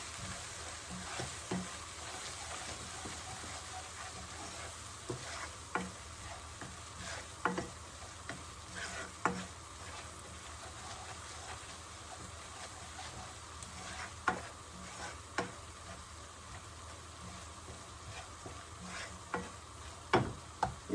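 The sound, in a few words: frying spices with cumin powder for dal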